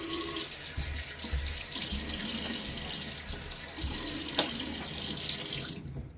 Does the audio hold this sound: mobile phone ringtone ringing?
no